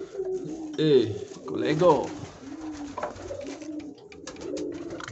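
Pigeons coo in a loft where young birds and eggs sit in the nests, the soft rolling calls rising and falling through the clip alongside someone speaking.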